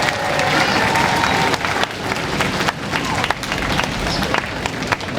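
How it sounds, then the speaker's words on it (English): A school gym or hall audience at a 4th grade band concert breaks into loud, dense applause for the parents, steady clapping with crowd noise and some voices mixed in. "How about a round of applause for your parents?"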